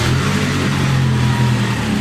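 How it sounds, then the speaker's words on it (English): Diesel-flushed car engine running steadily at idle with a firm low drone and slight rises in revs, close and loud, with no one speaking. "Listen to the engine. No bad taps, no bad knocking."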